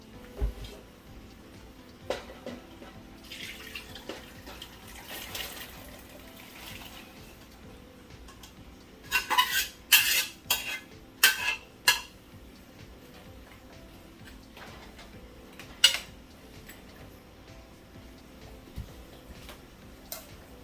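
Cooked oxtail for Jamaican oxtail is moved into its original pot on the stove, with a cluster of sharp clattering, scraping and wet splashing sounds in the middle, then quieter handling noises.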